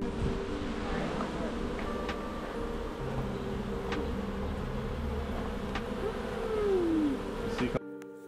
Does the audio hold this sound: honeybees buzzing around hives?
yes